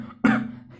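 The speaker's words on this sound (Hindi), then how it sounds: "उफ, ये खांसी तो थमने का नाम ही नहीं ले रही।" A single short, harsh cough bursts out close and loud over a low background hum, from a character in an Indian comic-story narration.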